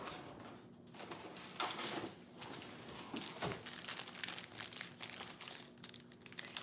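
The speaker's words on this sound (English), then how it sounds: "I need a plastic bag to put it in because that one's not resealable." A plastic bag crinkles and rustles quietly in scattered bursts as bread is packed into it, close by in an otherwise quiet room.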